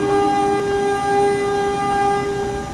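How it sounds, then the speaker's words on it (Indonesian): A panoramic passenger train being shunted gives a long, steady horn blast that holds the whole time over rumbling rail noise, loud and fairly close, with no voices. "Kereta api panoramik nih, wow."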